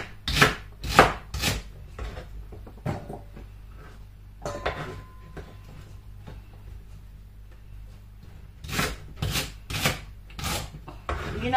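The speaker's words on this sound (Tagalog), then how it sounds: "Ikakat ko lang to bago ko ilagay sa blender." Quick bursts of knife chopping fruit on a board, a cluster at the start and another near the end, with a quieter pause between; no talking.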